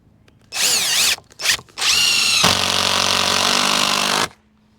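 A power drill drives a screw into a wooden fence board in three loud bursts: two short whirring spurts, then a longer steady run of nearly two seconds that stops abruptly, with quiet around it.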